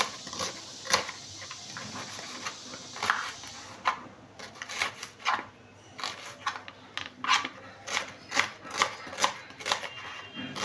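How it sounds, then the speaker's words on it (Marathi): A knife chopping an onion into large pieces for a tomato chutney, sharp clicking cuts that start irregular and settle into a quick, steady rhythm toward the end, close and fairly crisp. "आता मी कांदा चिरून घेणार आहे। इथे कांदा थोडा मोठाच चिरायचा आहे।"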